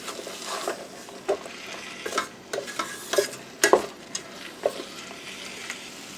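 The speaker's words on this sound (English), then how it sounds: "So I'll give it a stir, mix everything in." A spoon stirs a coconut rice mixture in a pot, giving scraping strokes and a few sharp clinks against the metal over a faint sizzle, close by, with no voices.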